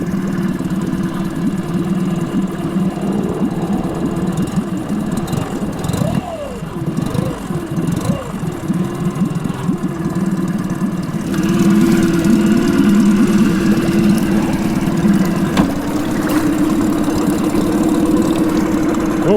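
An outboard engine runs on an inflatable catamaran, a steady low drone that grows louder partway through as it picks up. Voices talk over it.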